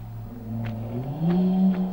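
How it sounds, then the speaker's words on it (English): A loud motorbike engine rumbles and revs outside, its pitch rising as it passes by, fairly close and steady throughout. "And a very loud motorbike outside my window."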